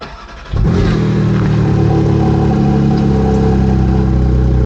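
A Porsche 718 Spyder RS flat-six fires up from cold after a quiet moment: a sudden loud catch and flare, then a steady, rich, high idle held close and alone.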